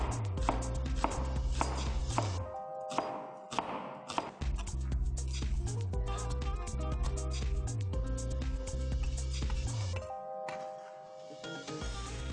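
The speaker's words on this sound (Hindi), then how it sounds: "एक बड़ी हरी प्याज लें और इसको लंबा लंबा स्ट्रिप कर लें।" Knife cutting a large green onion into long strips on a board, a steady run of loud rhythmic chops in bursts with brief pauses, with light kitchen background.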